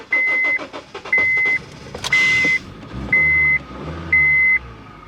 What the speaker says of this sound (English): Okay, car's running.